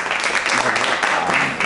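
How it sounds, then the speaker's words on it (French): Brief applause during a quiz game, a dense steady patter of clapping hands at close range that lasts under two seconds, mixed with faint voices. "ça fait applaudir"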